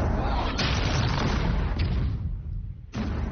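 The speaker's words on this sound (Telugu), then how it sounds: "ఆ గన్ షాట్స్ నాకు తెలుసు." Cannon fire and gunshots in a pirate film battle from Pirates of the Caribbean: The Curse of the Black Pearl: a loud, continuous rumbling barrage punctuated by a few sharp blasts, one near the start, one midway and one near the end.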